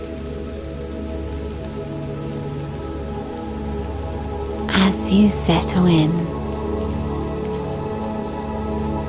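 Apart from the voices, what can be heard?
gentle rain falling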